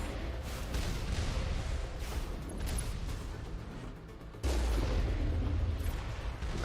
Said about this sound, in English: Oh, look at all them rockets coming.